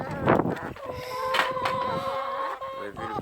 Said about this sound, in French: Vous avez vu le petit coq, il est en train de cocher la poule.